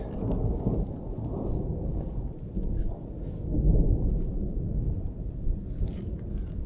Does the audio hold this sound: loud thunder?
yes